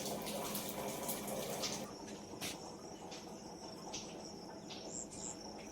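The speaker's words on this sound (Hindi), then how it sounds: "ये अभी इसमें स्नान के लिए जल निकाला जा रहा है।" Water runs for a bath from a machine that makes several kinds of water, at a meditation centre in the morning. It is a steady, fairly faint rush, with crickets and insects chirping throughout and no speech.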